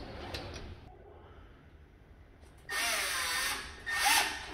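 A power drill whirs in two loud close bursts, driving a screw into a door lock being installed, after a quieter stretch of faint handling noise.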